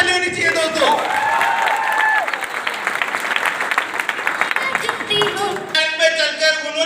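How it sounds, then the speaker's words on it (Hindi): An audience breaks into applause and cheering at a live event, clapping sustained for several seconds while a voice talks over it near the start. "एक बार परम पिता परमेश्वर के लिए जबरदस्त ताली होनी चाहिए दोस्तों।"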